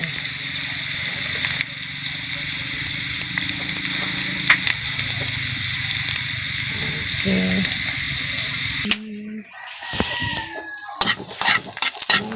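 Garlic sizzles and fries in a generous amount of oil in a pan, a steady close crackle with occasional stirring, cutting off near the end to a quieter stretch with a few clinks.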